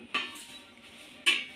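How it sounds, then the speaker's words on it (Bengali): A metal lid set down on a pan of frying snake gourd, two sharp clanks about a second apart, close and clear over faint kitchen background. "ভাজার সময় হাফ সেদ্ধ হয়ে গিয়েছিল, তাই আমি আরেকটু ঢাকা দিয়ে দেব পুরাটা সেদ্ধ করার জন্য"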